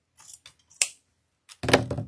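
A pair of scissors drops during craft work on a candy corn Halloween lantern swag, giving a sharp clack and then a brief metallic clatter amid quiet rustling.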